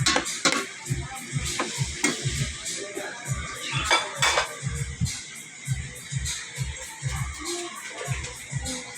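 A utensil stirs spaghetti sauce of dairy cream, onion and garlic in a pan, giving repeated close clinks and scrapes in an uneven rhythm over a faint sizzle.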